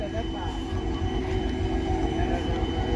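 A train rumbles past, giving a heavy continuous low rolling noise with metallic ringing tones from the wheels and rails, close by and steady.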